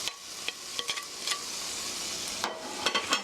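Sliced garlic and onion stir-frying in oil in a pan for soy sauce chicken, a soft continuous sizzle broken by a few sharp spatula scrapes and taps.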